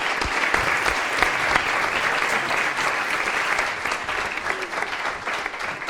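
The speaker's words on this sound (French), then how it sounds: "il faut les applaudir" Steady, loud audience clapping fills the hall at the final of a public-speaking eloquence contest in Le Mans, a dense, even applause heard close throughout.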